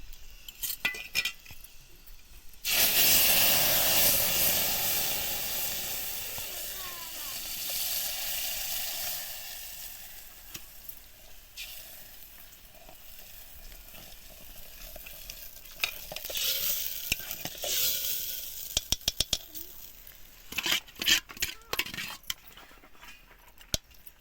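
Purslane (ghol) greens sizzle loudly as they hit a hot pan, then fry steadily while a spoon stirs and scrapes, with clinks of utensil on metal growing busier toward the end.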